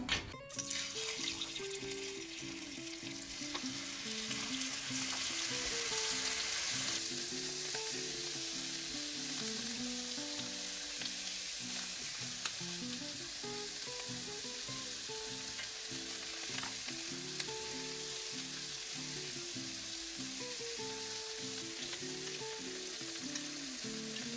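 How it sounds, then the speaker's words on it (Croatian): Meat frying briefly in olive oil in a pan, a steady close sizzle with occasional crackles that continues throughout under a quiet melodic background tune. "Meso pržite samo kratko, jedno 3-4 minute sa obe strane, čisto da pobeli i malo da počne da hvata boju."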